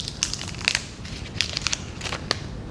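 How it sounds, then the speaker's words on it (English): Crisp crinkling and crackling of a label tag being peeled off a Spectracide Triazicide insecticide container, a series of close, sharp bursts over a low background rumble. "All you have to do is peel this tag."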